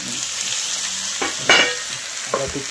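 Chopped onion and ginger frying in a pan, with a steady close sizzle broken by a few louder stirring scrapes and bursts as the pieces are moved around.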